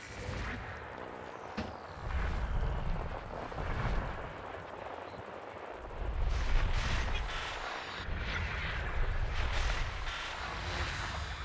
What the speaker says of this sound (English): Weapons fire.